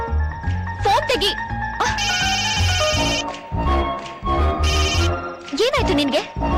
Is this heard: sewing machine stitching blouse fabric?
no